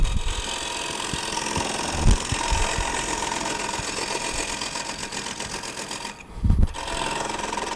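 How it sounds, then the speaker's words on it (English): Wood lathe spinning a bowl blank as a parting tool cuts in, a continuous whirring, scraping drone with short bumps and a brief dip near the end, with no talk. "And I'm going to take this parting tool, and I'm going to go in."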